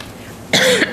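A single sharp cough rings out close by after a quiet stretch at a city council meeting, followed by a brief second burst.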